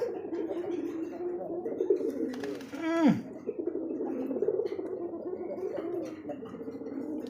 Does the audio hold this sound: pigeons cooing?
yes